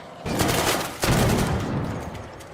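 Rapid bursts of gunfire crackle loudly and continuously in the video game Arc Raiders, with a brief pause before another heavy volley.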